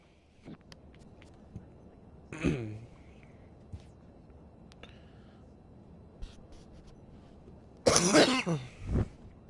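A man coughs and clears his throat several times during a baseball video game session: a few short isolated coughs, then a louder cluster near the end over quiet background hiss.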